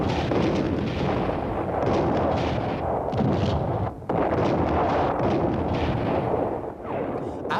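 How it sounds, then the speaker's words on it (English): Artillery bombardment from Six-Day War 1967 fighting: a dense, continuous roar of heavy guns firing and shells exploding, loud and relentless with only a brief lull. "Sharon brought forward the divisional artillery units to soften them up by persistent bombardment"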